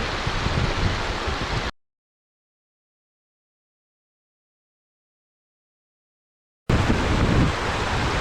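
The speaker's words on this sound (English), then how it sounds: "it's windy" Wind blowing hard outdoors by cold water, a loud broadband rush buffeting the microphone, cut by a long stretch of total silence before the gusty roar returns.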